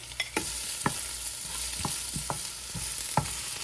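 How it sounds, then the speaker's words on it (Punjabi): Browned onions fry in a pan with green chillies and ginger, a steady close sizzle broken by several sharp spoon scrapes and stirs spaced about half a second to a second apart. "ਆਪਣੇ ਪਿਆਜ਼ ਥੋੜੇ ਜਿਹੇ ਬਰਾਊਨ ਜਿਹੇ ਹੋ ਗਏ ਨੇ ਹੁਣ ਆਪਾਂ ਇਹਦੇ ਵਿੱਚ ਹਰੀਆਂ ਮਿਰਚਾਂ ਪਾ ਦੇਵਾਂਗੇ ਨਾਲ ਹੀ ਆਪਾਂ ਅਦਰਕ ਪਾ ਦੇਵਾਂਗੇ"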